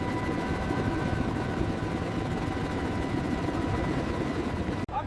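A helicopter hovers overhead during a rescue, a loud continuous rotor and engine drone with steady tonal whine, ending in a sudden sharp click.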